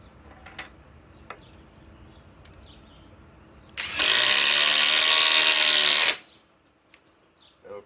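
A DeWalt XR DCF845 impact driver, 1825 inch-pounds with a 5-amp Power Stack battery, runs in one loud continuous burst of about two seconds, nearly alone after a quiet lead-in.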